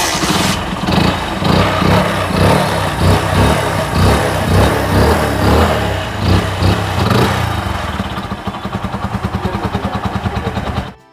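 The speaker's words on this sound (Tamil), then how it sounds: "2013 model Splendor bro self start." A 2013 Hero Splendor Pro motorcycle with self-start runs loud and close. A steady, buzzing single-cylinder chug fills the air, then settles into an even, rapid idle putter before it cuts off abruptly.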